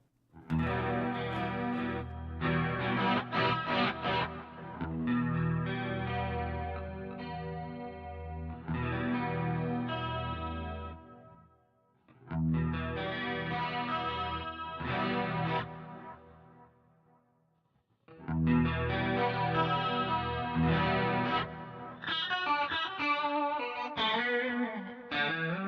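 Electric guitar played through a Boss GX-10 multi-effects unit, its compression effect toggled on and off, sounding as loud, sustained processed chords and runs with chorus-like shimmer in several bursts separated by brief near-silent gaps.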